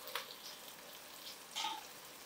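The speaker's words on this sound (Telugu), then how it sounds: "ఇలా చూడండి బాయిల్ అవుతున్నాయి" Eggs boiling in a pot of water give off a faint, steady hiss with a couple of brief bubbling pops, quiet and close, with no voices.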